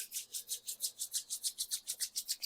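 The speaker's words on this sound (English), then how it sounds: "And I like to rub my hands" Two hands rubbed briskly together to warm them, a close, soft swishing friction in a fast, even rhythm of about a dozen and a half strokes, with no talking.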